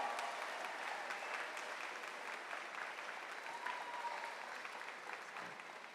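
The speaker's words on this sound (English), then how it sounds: "How about one more round of applause?" Graduates and guests at a university spring commencement give a sustained round of applause, heard as an even, distant wash of many hands clapping in a large hall at a fairly low level.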